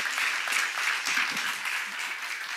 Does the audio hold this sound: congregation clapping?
yes